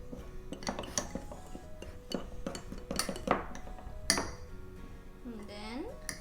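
A utensil stirs partly cooked chocolate cake batter in a microwave-safe dish, with scattered clinks and scrapes against the container, fairly quiet and irregular, ending on a brief squeaky scrape.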